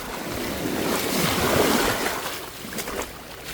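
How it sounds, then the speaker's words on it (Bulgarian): Sea surf washes and swells steadily at a tropical island beach while someone wades carefully through the shallow water, with a broad rushing wash and some wind across the microphone. "Внимателно нагазвам във водата"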